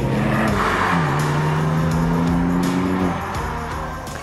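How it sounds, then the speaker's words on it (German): Ford Fiesta ST, 200 PS, with a flap-controlled twin exhaust in sport mode: a loud, steady engine and exhaust note that climbs in pitch for a few seconds, then eases off and fades slightly at the end. "Zwei Auspuffrohre da hinten verfügen nämlich über eine Klappensteuerung und verändern somit je nach Fahrmodus auch ihren Sound."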